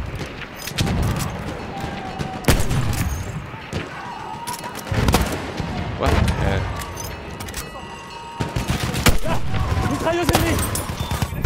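Machine gun fire in the World War I shooter Battlefield 1, with repeated sharp bursts and heavy impacts cutting through a dense, noisy battlefield mix while voices talk over it.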